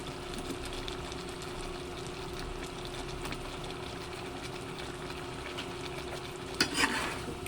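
Chicken curry with potatoes and carrots sizzles steadily in a pan while being stirred, with faint scraping throughout and a brief louder clatter near the end; close and fairly quiet, no talking.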